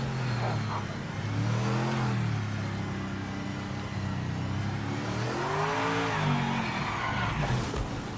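V8 race car in the Project Motor Racing video game, its engine revving and pulling through gears with a rising and falling howl, tire squeal threaded through, steady and fairly close with no talking over it.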